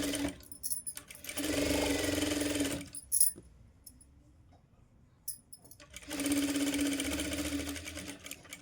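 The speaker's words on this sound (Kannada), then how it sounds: "ಇವಾಗ ಇದನ್ನು ನಾವು ಸ್ಟಿಚ್ ಮಾಡ್ಕೋಬೇಕು" A sewing machine stitches blouse lining onto the main cloth in two steady runs of whirring, mechanical stitching, separated by a quiet pause with a small click.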